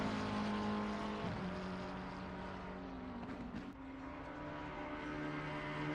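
A McLaren race car in a sim racing game screams flat out along the back straight at Paul Ricard, its engine note loud, sustained and steady with slight pitch shifts, no voices over it.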